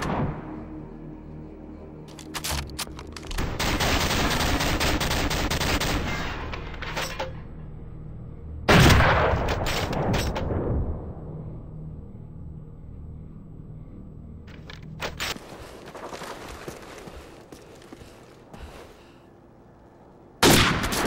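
Video game gunfire during a no-scope shooting drill, heard as several loud bursts of shots with quieter gaps between them, with no talking.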